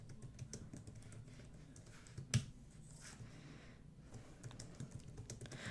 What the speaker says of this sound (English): I'll type in the chat to welcome everyone.